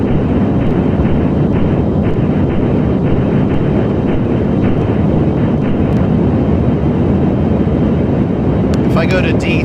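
Delta Glider IV spacecraft engines roar at full thrust in a flight simulator, a loud, unbroken broadband rumble lasting throughout, with a few faint clicks near the end.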